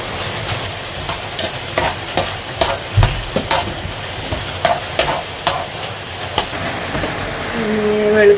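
Onions fry in a pan for a pasta dish, with repeated scraping stir strokes over a steady sizzle, close and clear, and no talking.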